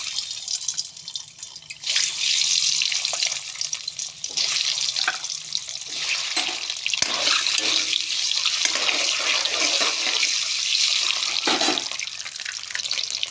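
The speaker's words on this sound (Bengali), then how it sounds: "ডিম হালকা করে ভেজে নিলাম" Egg frying in hot oil in a wok (kadai) while cooking an egg and potato dish, giving a steady, close, dense sizzling hiss that runs almost unbroken throughout.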